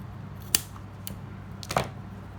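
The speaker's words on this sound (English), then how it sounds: "I'm just going to cut this out." Scissors snip through yarn on a dinosaur yarn sculpture, with a sharp cut followed by another double snip, close and crisp against a quiet background.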